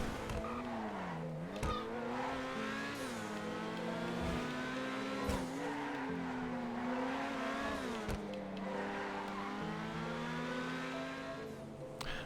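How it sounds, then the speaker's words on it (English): A Grotti Itali GTO Stinger TT sports car drives in GTA Online, its high engine whine climbing and dropping through repeated gear shifts, with sharp pops and tire squeal at corners, loud and continuous with no voices. "the Stinger TT is a very fast sports car in GTA Online."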